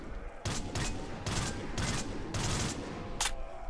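Gunfire in a first-person shooter video game, several rapid automatic bursts in quick succession with short gaps between them, loud and close, ending with one brief final burst.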